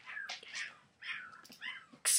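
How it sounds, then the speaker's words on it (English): Young puppies whining and yelping for their mother, a series of short, high, close cries in quick irregular bursts, separated by brief quiet gaps. "My dog had puppies and they're yelling for mommy"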